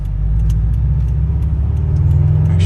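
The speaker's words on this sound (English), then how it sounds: "I have, so far as you probably can hear, an invidia N1 catback exhaust with Borla unequal length headers" Subaru BRZ fitted with an Invidia N1 catback exhaust and Borla unequal-length headers rumbles steadily from close by, a deep, loud, burbling exhaust tone that holds even throughout without talk.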